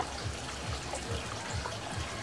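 Running water trickles steadily into a fish hatchery for catfish fry, a close, even wash of splashing with a faint rhythmic low pulse beneath it and no talk.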